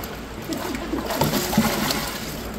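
Water and homemade surf detergent stirred with a stick, producing uneven sloshing and splashing strokes that swell and fade over a couple of seconds.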